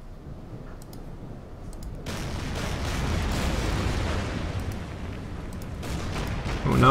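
Gunfire in the Order of Battle war strategy game, in a US Marines battle in the Marshall Islands. It starts as a low rumble, then becomes a loud, sustained barrage of booming shots and blasts, with a sharp crack at the end and no talking.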